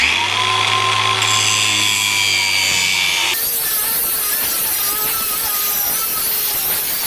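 A hold-down bolt for a Cummins 855 Big Cam engine, clamped in a vise, is cut off with a power tool: a loud, steady, high whining grind that shifts to a harsher, rougher cutting noise partway through.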